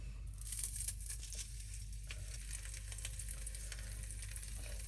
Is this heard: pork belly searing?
yes